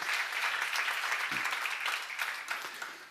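Brief burst of audience clapping at a church Bible seminar, a dense, steady round of applause from a roomful of listeners, fairly close and even throughout.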